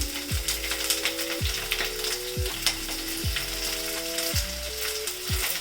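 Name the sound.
frying sliced onions for biryani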